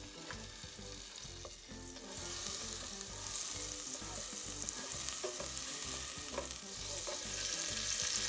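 Butter sizzling in a pot heated over medium heat, the start of a seafood chowder; a steady, close crackling hiss that swells louder after about two seconds and continues unbroken, with no voices.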